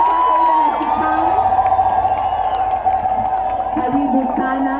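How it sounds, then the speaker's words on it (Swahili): A crowd cheers, whoops and claps to welcome a matron at a community gathering; the noisy, sustained roar runs for the whole stretch with a steady tonal ring above it and no clear talk. "Makofi kwake, makofi kwake ile na kikao."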